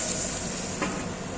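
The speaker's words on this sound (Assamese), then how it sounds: "এতিয়া আমি মাংসখিনি অলপ লৰাই লৈ আধা ফ্ৰাই হোৱালৈকে আমি মাংসখিনি এনেকৈ অলপ দেৰি ঢাকি থওঁ" Meat sizzling softly in a covered pan while half-frying, a steady quiet hiss with a brief faint crackle in the middle.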